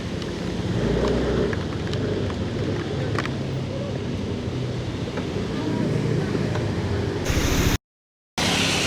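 Steady rain falls during a motorbike ride to the Bantargebang landfill, a dense continuous wash of drops mixed with wind and road rumble, loud and close throughout before a sudden cut near the end; no clear thunder stands out.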